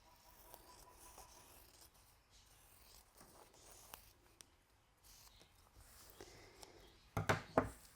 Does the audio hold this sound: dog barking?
no